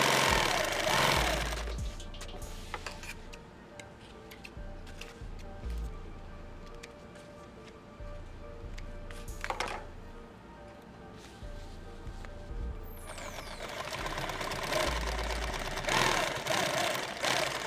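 A sewing machine tacks down webbing on a two-quart pouch lid, giving quiet, intermittent bursts of rapid mechanical stitching separated by pauses.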